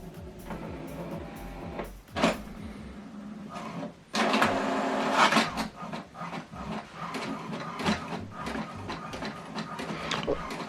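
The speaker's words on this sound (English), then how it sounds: "Now what it's doing now is printing the welcome information that I sent to this printer." HP Deskjet 2700 printer printing a page, with mechanical whirring and clicks from the carriage and paper feed, plus sharper bursts of clatter and short pauses, close and moderately loud.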